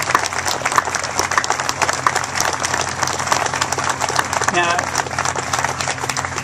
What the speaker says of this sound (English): I'd like a round of applause for all the folks that are here for the Mercury program.